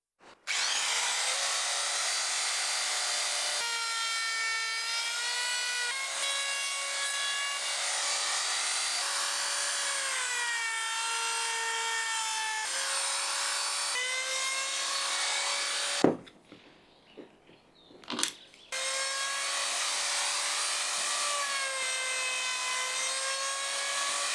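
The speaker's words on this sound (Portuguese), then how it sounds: "Agora vou passar uma fresa de corte rente ao interior de cada furo para igualar ao tubo" A router with a flush-trim bit cuts around the inside of holes drilled in a wooden organizer, its high whine rising and falling through several passes, then a brief pause with rough scraping before the router resumes.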